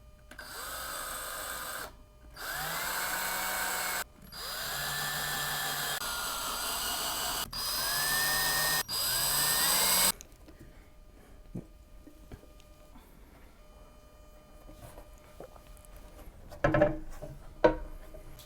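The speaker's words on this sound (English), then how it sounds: "So now we're just gonna pre-drill." A power drill pre-drills small screw holes into a butcher block tabletop in several close, loud bursts that rise in pitch as the motor spins up, followed by quiet handling and faint clicks.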